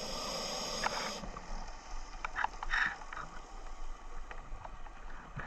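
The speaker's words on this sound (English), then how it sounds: "It's got that lovely reassuring sound of the boat above my head." A boat's engine drones overhead as heard underwater by a diver on a spider crab dive, a muffled low hum with brief bursts of bubbling and clicking noise.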